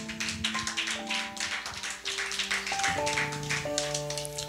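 A church congregation claps for the Holy Spirit, rapid overlapping hand claps filling the room at a steady roll, while sustained keyboard or organ chords play underneath.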